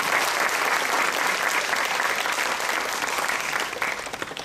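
Audience applause at a ceremony in a Chennai hall, a dense continuous wash of clapping hands sustained at steady loudness, thinning slightly near the end, with no voices over it.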